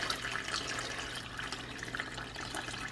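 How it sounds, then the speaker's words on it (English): Water poured steadily into an Instant Pot for homemade beef or chicken stock, a continuous splashing and trickling stream with a low hum beneath it and no speech. "so I'm going to pour in the rest of the water"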